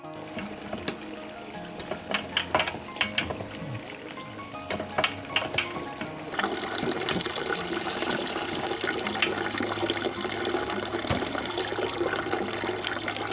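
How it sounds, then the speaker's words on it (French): Apple juice pours into a sterilised carboy, starting as scattered splashes and knocks, then turning into a steady, close gushing stream that runs for several seconds. "On verse le jus dans la tourie aseptisée"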